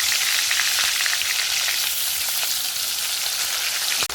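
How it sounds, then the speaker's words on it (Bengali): Pieces of fish frying in hot oil in a kadai, a loud, dense, continuous sizzle and crackle close up with no talking. "কড়াই তেল গরম হয়ে গেছে, এর মধ্যে দিয়ে দেবো মাছের টুকরো।"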